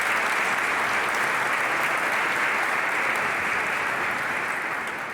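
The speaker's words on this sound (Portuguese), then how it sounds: "Uma salva de palmas aí para os aniversários" A church congregation at Sunday Mass applauds for birthdays, a dense, even wash of many hands clapping continuously for several seconds, fading slightly at the end.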